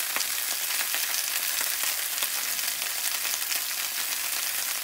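Tomatoes sizzle in hot oil with spices and dried red chilli for a Bengali tomato chutney, a steady close crackling fry with small pops throughout and no voices.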